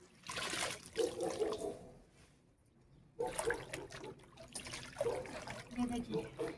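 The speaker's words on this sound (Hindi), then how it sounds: "इस तरीके से धोते हुए ऐसे करते हुए निकालनी है मेथी" Freshly picked kasuri methi leaves are swished and rinsed by hand in a basin of water, giving splashing and trickling bursts with a brief quiet pause midway; a voice talks over the washing.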